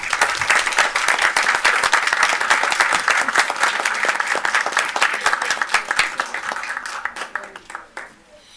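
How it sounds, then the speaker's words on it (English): An audience at a city commission meeting in Muskegon claps in dense, sustained applause that stays strong for several seconds, then thins and fades out toward the end. "Another round of applause for them."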